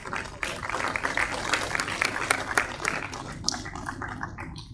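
An audience claps for a student prize winner at a school prize-giving during a National Safety Day celebration; dense, sustained applause fills the hall for several seconds, loud and close.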